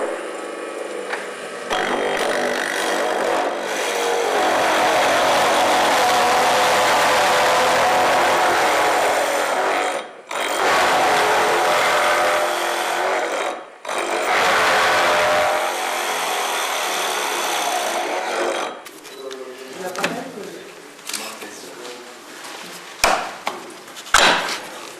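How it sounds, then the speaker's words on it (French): A 30 mm hole being drilled at an angle into wood with a metal drill bit, a long steady grinding whine broken by short pauses, then sporadic knocks and scrapes near the end, close and loud. "je fais un trou de 30 hein, et je n'ai qu'une mèche à métaux en somme"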